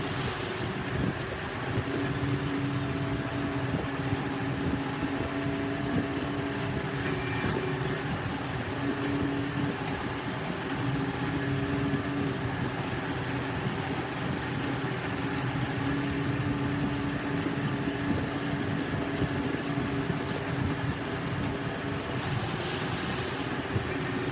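A tractor pulling a round baler picks up big hay windrows in a field, giving a continuous loud engine drone with steady machinery rumble, heard close and unbroken throughout.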